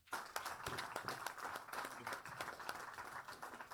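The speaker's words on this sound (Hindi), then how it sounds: "भरपूर तालियों से इस्तकबाल करें गुलजार गनाई साहब एंड पार्टी." Faint, distant audience clapping greets Gulzar Ganai and his party at an Eid special program, with a ragged rhythm of hands throughout and no speech over it.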